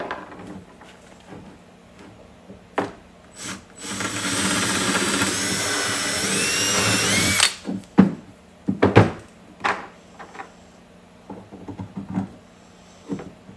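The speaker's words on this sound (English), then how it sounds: "Okay, I have all the holes drilled, and I'm almost ready to attach it." A power drill bores holes in parts for a lightweight folding bench for a truck camper: one sustained whirring burst of a few seconds, surrounded by sharp clicks and handling knocks.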